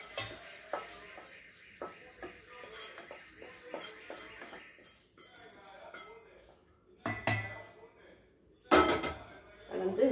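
A spoon stirs beetroot adai batter made with rava in a metal pot, giving irregular scraping and clinking strokes. Sharp utensil knocks against the pot come louder toward the end.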